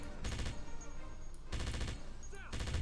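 Bursts of automatic gunfire from the PC shooter game Wolfenstein (2009) come in three rapid rattling volleys separated by short pauses, loud and close over a steady game background.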